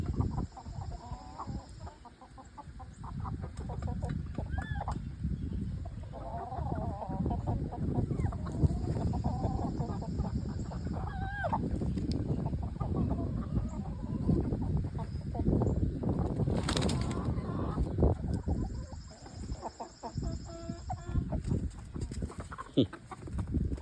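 A backyard flock of adult chickens clucks and murmurs steadily, with a young rooster's brief squawking crow breaking through, close by and alone without talk.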